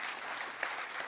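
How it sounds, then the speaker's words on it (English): Audience applause for the mayor at a ribbon-cutting for a demonstration center, a steady, even wash of clapping filling the whole moment without any voices. "can we please give him a round of applause?"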